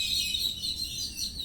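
Birds chirp in a mint garden, a steady high twittering with a constant background hiss and no voices.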